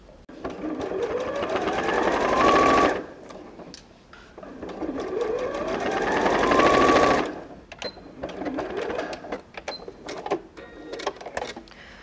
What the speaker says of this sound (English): And just top stitch again.